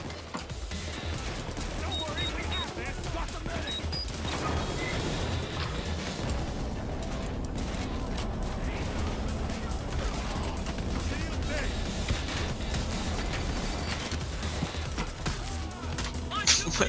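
Gunfire in the video game Payday 2, dense bursts and rattling shots layered over constant game noise, with voices talking throughout.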